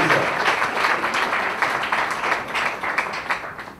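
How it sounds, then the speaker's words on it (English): An audience at an education launch event in India applauds a guest speaker, a dense, sustained wash of many hands clapping that carries evenly through the whole stretch without any voices. "Let's have a huge round of applause once again for Dr."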